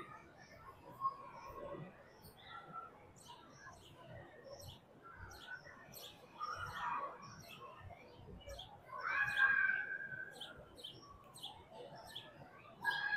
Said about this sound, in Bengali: এই যে পাখিগুলি খাবারের আশায় উঠতে থাকে সারাক্ষণ, খাবার খুঁজে